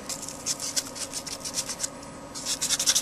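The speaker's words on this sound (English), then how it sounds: "I grab the right grit sandpaper." Close, steady rasping strokes of sandpaper rubbing on a surface, quick and irregular in rhythm, with no voices present.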